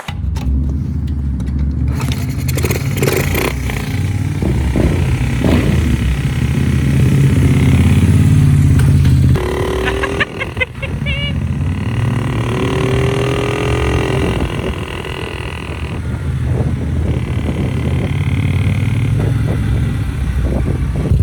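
A Moto Guzzi motorcycle fitted with an Agostini exhaust rumbles loud and close, its deep engine note rising and falling through repeated revs over about twenty seconds with a brief scrape midway.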